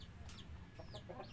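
Rhode Island Red chickens clucking in short, soft calls scattered over a steady low background rumble, with several birds close by.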